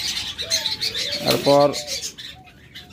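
A pair of cockatiels at a bird sale makes short chirps and coo-like calls, with one louder call near the middle. Some flapping sounds in too, and someone talks briefly over it.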